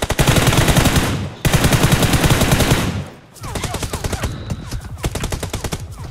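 Rapid automatic gunfire in the mobile battle game BGMI, loud and close, comes in long rattling bursts with a short break between them. Faint voices can be heard underneath.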